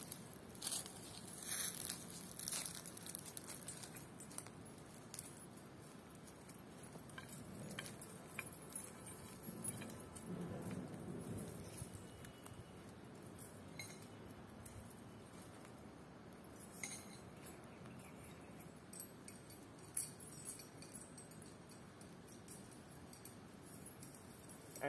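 A metal surveying chain is folded, giving scattered jangles and clinks of linked metal over a quiet background, close and irregular throughout, with no talk.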